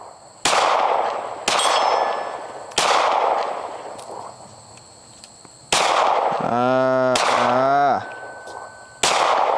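Gunshots fired with an iron-sighted firearm at a steel target on a range: six sharp, loud reports spaced about a second or two apart, each ringing off the metal, with a brief voice-like sound in between.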